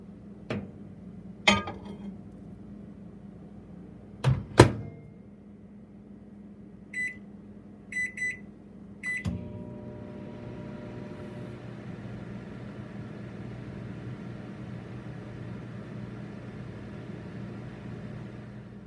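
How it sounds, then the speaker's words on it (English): A microwave oven heats a mug pizza. Several sharp keypad beeps and clicks come first, then a steady low hum of the oven running takes over, close and moderately loud, with no talk. "now it's time to take it to the microwave where we are going to cook our pizza for"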